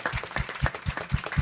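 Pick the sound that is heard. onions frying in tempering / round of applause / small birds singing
round of applause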